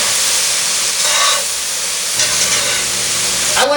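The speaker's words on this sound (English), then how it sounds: "I like to let the vegetables and the mushrooms go about 2 minutes on a really high heat." Mushrooms and vegetables fry on high heat in a pan, giving a loud steady sizzle and hiss with occasional stirring and no voices.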